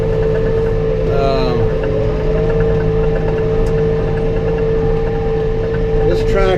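A 110-horsepower tractor with an AGCO Power four-cylinder engine drones steadily under load, a constant mid-pitched hum with a whining tone riding above it, loud and close for the whole stretch.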